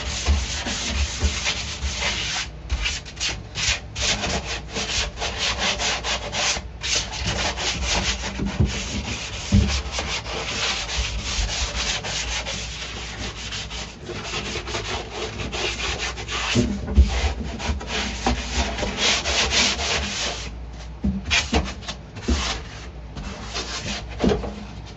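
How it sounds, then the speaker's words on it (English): A sandpaper pad scuffs the metal floor of a Jeep Wrangler under restoration with a loud, continuous abrasive rasp, close up, its rubbing strokes running unbroken with slight surges and dips. "you're just gonna take some sandpaper, sand pad, whatever, and just scuff it up"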